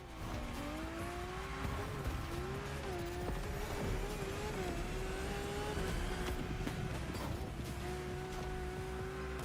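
A Lamborghini races in The Crew Motorfest, its engine howling with rising and falling pitch as it accelerates and shifts, with bursts of tire squeal and skidding throughout, loud and close.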